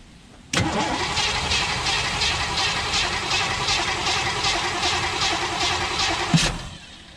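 A neglected 1958 Chevy Biscayne with a Tri-Power engine cranking steadily for about six seconds. The starter churns in an even rhythm, loud and close, then ends with a brief catch before stopping.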